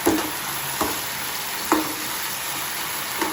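Beef tongue with ginger is stir-fried in a hot pan, a close steady sizzle broken by a few distinct scraping stirs of the spatula, with no voices.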